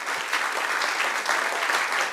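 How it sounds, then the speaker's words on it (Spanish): A church congregation gives a short burst of applause during a worship service, a dense, steady wash of many hands clapping at moderate loudness with no talk over it. "Dale otro aplauso a nuestro Dios."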